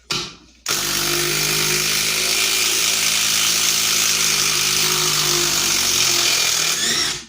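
A DeWalt Xtreme 12-volt brushless impact driver drives hard and steadily for about seven seconds after a short start, loud and close, its rapid hammering buzz holding constant with no voices.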